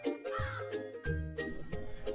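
Cartoon crow caws in an animated children's fable about a thirsty crow and a water pot, several harsh calls in a row over a light tinkling music bed.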